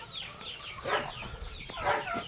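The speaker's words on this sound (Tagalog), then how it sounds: "ito mga sisiyo ng manok." Chicken chicks peep with thin, high cheeps in short repeated bursts, close by, over faint farmyard background noise.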